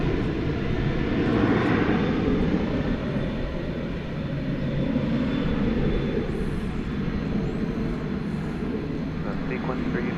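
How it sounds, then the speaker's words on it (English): A Qatar Airways airliner bound for Doha taxis across a bridge at DFW Airport toward the east side, its engines giving a steady, broad distant roar that holds level throughout with no talk over it. "there goes the Qatar flight to Doha going across the bridge. To the east side for takeoff."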